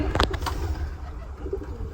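Pigeons kept in a backyard coop, one chasing and pecking another, with soft cooing and fluttering close by over steady low rumbling background noise.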